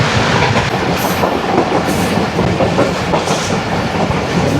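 Shalimar Express train running at speed, overtaking Hazara Express, heard from on board as a loud, continuous rumble of wheels and carriages with rhythmic clickety-clack and faint occasional squeals.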